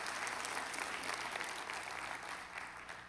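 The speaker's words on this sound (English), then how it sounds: "You can applaud." Congregation applauding during a Sunday church service, a faint, steady wash of clapping from a gathered crowd heard from some distance.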